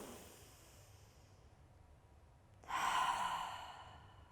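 A slow, deep breath in through the nose during a core-focused vinyasa yoga session, then a soft, breathy exhale, close and quiet with no talk.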